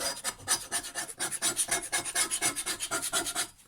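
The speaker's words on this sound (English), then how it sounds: "scraped off, scrape the crap off it." Rhythmic scraping of debris off a Hyundai HYM480SPR lawn mower blade, quick repeated back-and-forth metal strokes, close and fairly quiet with no voices.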